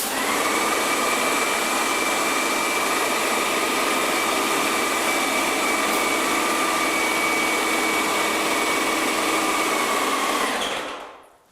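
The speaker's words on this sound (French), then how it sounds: "je vais vidanger la canalisation du pistolet, sinon je vais peindre avec de l'eau" A low-pressure airless paint sprayer runs steadily while purging water from its hose and gun line, giving a loud, continuous mechanical hum and hiss that cuts off abruptly at the end.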